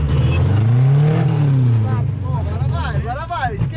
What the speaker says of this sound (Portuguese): eu vou ter que esperar o carro esquentar, mano, que ele não tá parando